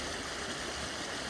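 Waterfall water pours into a stream in the Philippines, a steady, dense rushing wash that stays even and loud throughout with no breaks.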